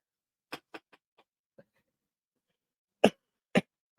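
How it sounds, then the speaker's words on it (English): Several short, sharp coughs in two bursts, close and dry, separated by a pause of near silence. "Try not to cough."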